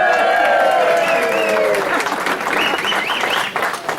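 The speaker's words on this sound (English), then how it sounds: "I was hoping to get a better round of applause." An audience applauds a high school principal during a student recognition assembly, a steady loud burst of clapping that carries on for several seconds with some cheering and whistles in the mix.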